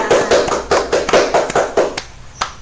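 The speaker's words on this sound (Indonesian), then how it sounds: "Hore, tepuk tangan untuk kita semua." Students in a classroom clap their hands together in a quick, rhythmic unison burst of about eight loud, close claps before stopping, followed by a couple of stray claps.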